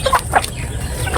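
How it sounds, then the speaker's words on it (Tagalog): Pet chickens clucking close by in a backyard flock, a few short bursts of clucks in quick succession with no talk. "ang lulusog ng aking mga alagang manok"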